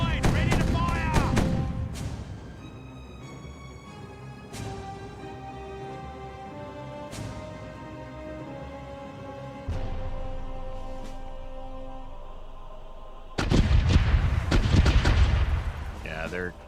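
A pirate ship's cannon broadside in Caribbean Legend: a heavy rolling volley of booming shots opens, music tones ring on between, then a second loud barrage of overlapping blasts crashes in near the end.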